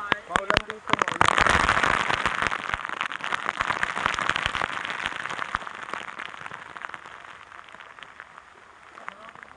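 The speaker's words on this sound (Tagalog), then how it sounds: "Oh, lakas ng ulan" Heavy rain pours down in a dense, steady hiss with scattered crackling splatters, loudest early and easing slightly, while voices talk over it.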